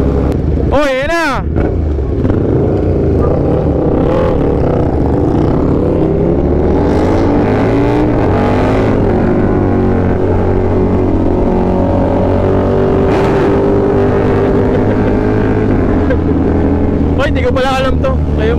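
A superbike engine revs hard and close, rising and falling in loud sustained pulls with sharp blips at the start and end, amid wind noise.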